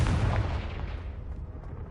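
A Confringo blast spell explosion in Hogwarts Legacy, one loud booming burst that rumbles and fades over two seconds, with no talk.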